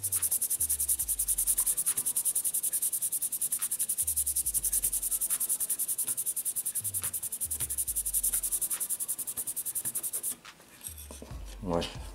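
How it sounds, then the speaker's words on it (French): Rhythmic sanding strokes on a Revell HLF 20 Varus 4x4 scale model part, a close, steady rasping scrub repeating about every second before stopping abruptly near the end. "Alors, on frotte, on frotte."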